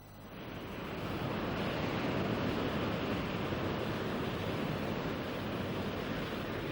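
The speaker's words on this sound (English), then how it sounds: "This is the Pacific Ocean." Pacific Ocean surf breaking on a California beach, a steady, full roar of waves that swells in over the first second and holds loud and continuous, with no voices.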